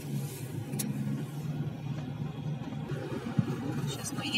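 A car drives at steady speed through a town district, its engine and road noise a faint continuous rumble from inside the cabin, with a brief bump partway through.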